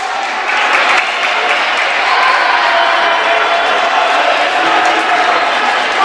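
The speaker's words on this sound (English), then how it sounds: "Crowd really getting into it now." Spectators cheer and applaud at a women's volleyball match between Eureka and Dominican, a loud, sustained roar of crowd noise filling the gym.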